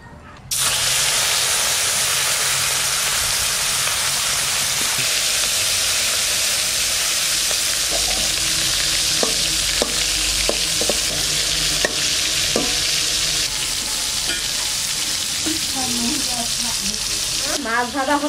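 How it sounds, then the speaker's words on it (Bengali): Fish sizzles in hot mustard oil in a wok, a loud continuous frying hiss with scattered pops and crackles and some stirring scrapes, nearby and steady throughout. "মাছ ভাজার জন্য কড়াই চাপাই দিয়েছি সরষের তেল"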